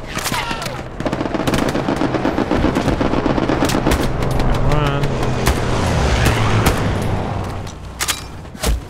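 Automatic weapon fire and single gunshots from the World War II shooter Hell Let Loose, loud sustained bursts with rapid cracks throughout, mixed with distant battle noise and vehicle rumble.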